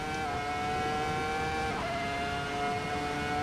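A stock Ferrari F2004 Formula 1 car with slightly raised tyre grip, driven in the racing game Assetto Corsa, holds a steady high-pitched engine whine as it accelerates, with a brief gear change midway and no talking.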